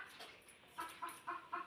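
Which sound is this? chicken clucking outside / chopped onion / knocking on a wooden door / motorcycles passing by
chicken clucking outside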